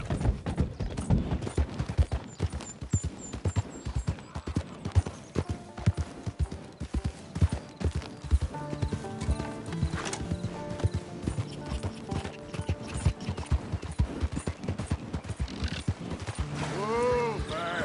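Horse hooves trotting in the Western video game Red Dead Redemption 2, a steady rapid clip-clop rhythm throughout with creaking tack and game sounds, and a brief snort or whinny near the end.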